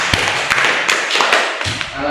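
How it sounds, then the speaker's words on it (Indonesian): Classroom applause for a student's good score in a lesson on air-conditioning systems: a handful of scattered hand claps and taps from a small group, fairly close, with some murmuring voices underneath. "Beri tepuk tangan untuk nilainya sudah bagus."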